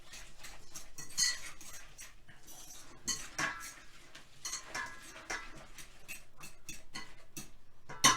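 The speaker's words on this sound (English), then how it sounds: "So first thing is to mix these ingredients together." Meatloaf ingredients are mixed by hand in a bowl, with irregular close clicks, taps and scrapes of a utensil against the dish over a quiet background.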